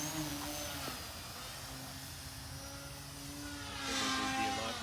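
A Timber X bush plane drones overhead, its propeller engine a steady buzzing hum with shifting tones that swells slightly near the end, heard from a moderate distance.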